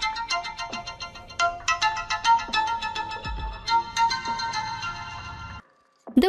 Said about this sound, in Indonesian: film pun berakhir bersamaan dengan HP Dong-ho yang kembali berdering.